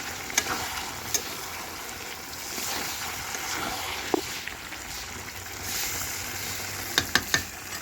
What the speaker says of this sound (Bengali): তাই একটু মাংসটাকে নাড়াচাড়া করে নিই